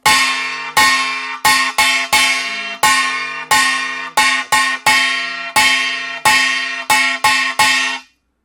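A kkwaenggwari, a small bright Korean gong, is struck repeatedly in the fast hwimori rhythm, a driving pattern of clustered hits, each clang ringing briefly before the next.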